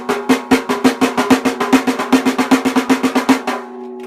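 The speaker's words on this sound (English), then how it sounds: "And then on the snare it sounds like this." Quick run of triplet strokes on a drum, about two dozen sharp evenly spaced hits with a pitched ring, close and loud, ending in a short decaying tone.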